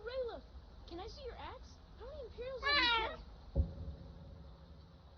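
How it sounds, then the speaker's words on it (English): A stray cat meows repeatedly in Skyrim modded with Nolvus, a run of close, rising-and-falling cries followed by a quick flurry of short mews, with a soft thump near the end. "It's another stray cat."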